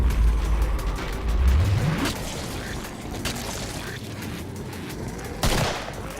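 Rapid gunfire from the Killing Floor video game crackles in dense bursts, with a heavier blast near the end, layered over rumbling engine-like noise and muffled voices.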